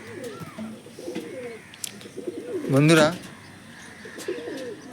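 Pigeons in a loft coo in repeated low rolling phrases, with one louder, closer coo near the middle and faint chirps around them, while someone talks briefly.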